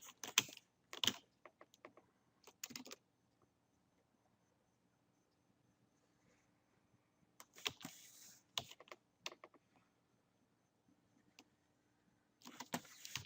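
Keys clack on a computer keyboard in quick, quiet clusters separated by long silent pauses, close and alone with no talking.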